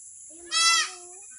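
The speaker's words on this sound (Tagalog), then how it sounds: "Ayan, guys, yung mga kambing natin." A single goat bleats once, a short wavering cry up close, rising out of a quiet background with a steady high electrical whine underneath.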